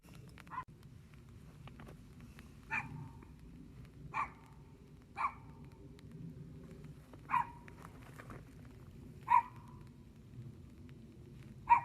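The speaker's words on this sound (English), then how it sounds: "Their little dog is so excited." Small excited dog barking outdoors on a trail, short sharp yaps spaced a second or two apart at middle distance over a faint breezy background, no voices heard.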